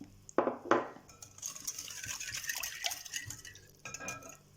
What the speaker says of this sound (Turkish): Bir miktar karıştırıyorum.